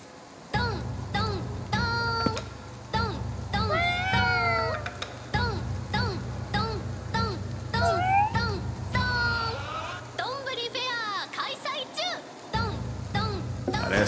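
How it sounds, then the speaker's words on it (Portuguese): A cat meows repeatedly in the video game Ghostwire: Tokyo, with drawn-out, rising and falling cries over a steady low background hum, and voices talking at times. "E isso é um gato?"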